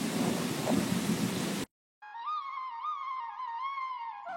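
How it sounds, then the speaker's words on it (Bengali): Heavy rain with thunder roars as a dense, loud rumble for under two seconds, then cuts abruptly to a brief silence followed by a melodic musical tone. "উফ বাবা, আর এই বৃষ্টি।"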